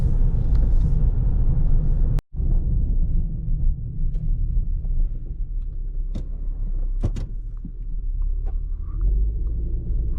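A car pulls away in a video game with a low, steady engine rumble that continues throughout, broken by one sharp click and a few faint knocks.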